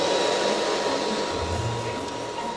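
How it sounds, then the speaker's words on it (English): A hair dryer blows steadily over cooked grain spread out to dry, making a loud continuous broadband whoosh that runs the whole time with no pauses or talk. "So we'll just pop the dryer on now."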